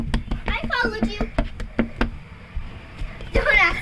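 Knocks on a house door come as a quick run of sharp raps in the first two seconds, with animated cartoon voices chattering over them and again near the end.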